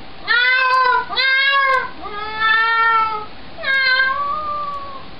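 A person imitates a cat, giving four drawn-out, wavering meows one after another, loud and close, with a falling, whiny pitch.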